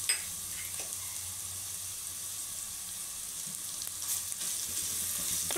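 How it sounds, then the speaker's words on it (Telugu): Ginger and garlic fry in a pan for a chicken-stock pulao, making a continuous, even sizzle with light stirring sounds that swell slightly toward the end, with no voices. "ఈ అల్లం వెల్లుల్లిపాయ కూడా పచ్చి వాసన పోయే వరకు ఫ్రై చేసుకోవాలి"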